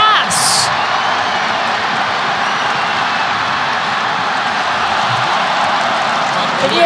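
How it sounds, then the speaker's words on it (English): A large college football stadium crowd at a Wagner vs. Syracuse game keeps up a steady, loud roar of cheering for a long run, continuous and distant-sounding, with a commentator's voice partly over it. "And you hear the crowd"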